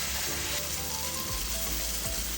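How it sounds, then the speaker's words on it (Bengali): Spices stirred and fried in oil for an egg tadka, a steady dense sizzle with a low scraping stir sweeping through it twice, close and continuous with no talking. "এবারে সব মশলাগুলো একটু ভালো করে নাড়চাড় করে নিচ্ছি"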